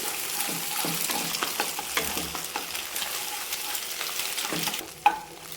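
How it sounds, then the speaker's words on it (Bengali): Egg bhujia being stirred and fried in a kadai, crackling sizzle under repeated scraping strokes of a spatula, close and steady, with a sharper clink near the end and no talk. "ডিমটাকে আমি নাড়াচাড়া করে ভুজিয়াটা তৈরি করে নিচ্ছি"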